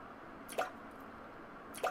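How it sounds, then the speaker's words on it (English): Water drips in a video game, two separate bright plinking drops about a second and a quarter apart over a steady low ambient hum, with no talking. "Drip, drip."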